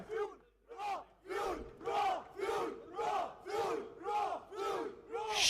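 A cheering squad at an esports Valorant grand final between Orangutan and Reckoning Esports chants in unison, roughly eight loud rhythmic shouts at an even pace, each rising and falling, ending in a burst of louder cheering.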